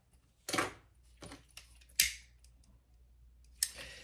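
Scissors cut fabric for a small zipper pouch, with three or four crisp, close snips spaced apart over quiet background.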